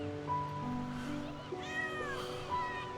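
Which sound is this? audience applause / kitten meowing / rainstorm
kitten meowing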